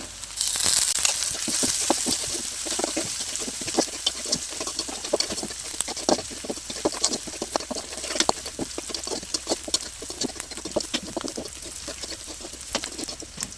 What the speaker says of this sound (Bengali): কিছুক্ষণ পেঁয়াজটাকে ভাজার পর এর ভিতরে দিয়ে দিচ্ছি আমি শুটকি